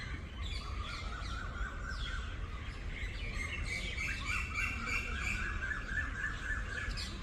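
Many birds sing and squawk together in springtime, a dense layer of bright chirps, tweets and shrill calls overlapping continuously at moderate distance, with no voices.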